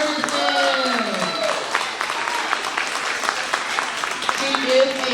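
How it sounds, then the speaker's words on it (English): An audience at an end-of-year ceremony claps in a sustained round of applause, dense and fairly loud, while a voice speaks over it at the start and again near the end. "So again, let's give another round of applause to Miss Nettie Ferguson."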